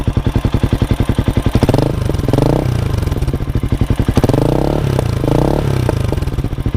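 A Cafe400 motorcycle of about 400cc with a new aftermarket exhaust, idling in a loud rapid thumping pulse and then blipped in two short throttle revs that swell and fall back to the chugging idle.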